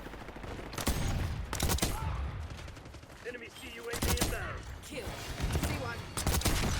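Bursts of gunfire in Black Ops 6 battle royale, several loud sharp volleys at irregular intervals against steady game noise, with a player talking between shots.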